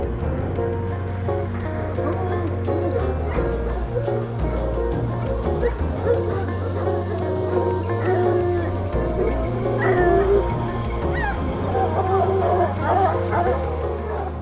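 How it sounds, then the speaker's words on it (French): Two abandoned hunting dogs bark and whimper repeatedly at a hunter's home, yips and whines scattered over a steady low engine-like drone, with people talking in the background. "Donc là, on se déplace au domicile de son ami chasseur pour récupérer les 2 chiens."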